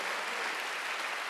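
A church congregation at a Wednesday worship service claps together in a dense, steady burst of applause, fairly soft and even, with no voices over it.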